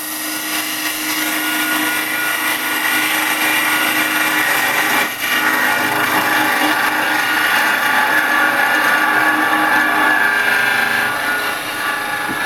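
A wood lathe spins a resin bowl while carbide chisels cut into it, making a steady, loud whirring hum with a continuous scraping tone and one brief dip partway through.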